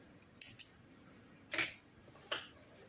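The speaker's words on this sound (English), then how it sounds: "Chain 1 and cut. The yarn, leave tail to sew." Scissors snip through crochet yarn in three short, crisp cuts, spaced close together and heard up close against a quiet background.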